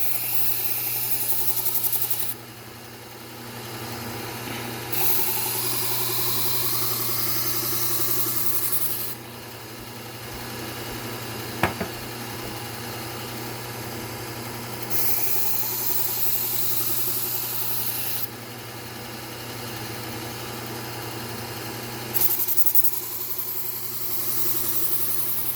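A belt grinder hums steadily while a Victorinox knife is pressed against a Trizact belt in repeated bursts of rasping contact, each pass lasting a few seconds with quieter gaps between.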